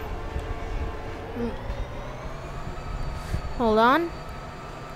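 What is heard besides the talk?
locomotive train driving in BeamNG video game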